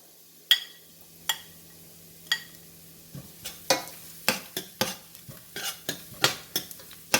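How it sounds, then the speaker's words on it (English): Turmeric and ground spices saute in a pan for lobster masala while a spoon strikes and scrapes the pan, first in a few spaced knocks, then in a quicker run of about a dozen clinks over a faint sizzle and low hum. "And saute for some time."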